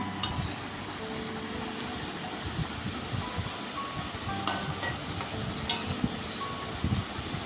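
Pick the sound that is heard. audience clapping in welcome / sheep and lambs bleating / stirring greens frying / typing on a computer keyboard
stirring greens frying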